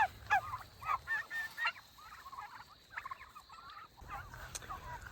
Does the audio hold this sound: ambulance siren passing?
no